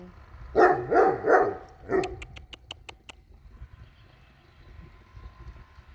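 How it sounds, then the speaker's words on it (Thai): A dog barks at a cat, with three quick, close barks followed by a few sharp ticking clicks, then quiet background noise. "มันเห่าแมว"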